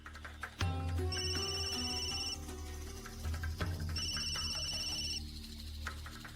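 A telephone rings indoors in two separate electronic bursts with a pause between them, heard clearly over a low background hum.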